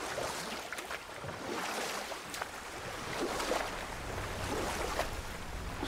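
Oars paddle a boat across a lake in the game God of War, a soft continuous wash of water with rhythmic splashy strokes, faint and without talk.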